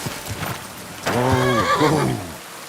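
Horse in the video game Kingdom Come: Deliverance II gives a clear, drawn-out whinny near at hand, preceded by a few soft hoof clops and followed by faint rain.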